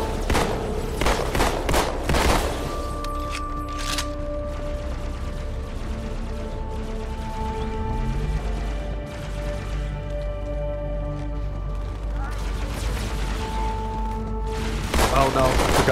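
Steady game gunfire from Halo 2 on the Cairo Station level, with dense bursts at the start and end over a continuous mechanical drone and tonal game music, while voices talk.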